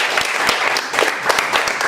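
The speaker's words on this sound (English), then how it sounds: "A big round of applause to Richard." An audience at a Silicon Valley performance welcomes performer Richard with applause. A few distinct, close hand claps stand out above a steady background of clapping.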